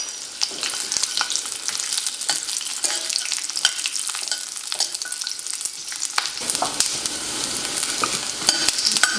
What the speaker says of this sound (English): Now I will saute the onion and 3 garlic cloves, just for a little bit.